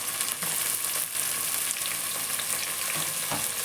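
Turmeric, mint and coriander fry in a pan while being stirred, giving a steady close sizzle with occasional scraping clicks of the spoon throughout, no voices.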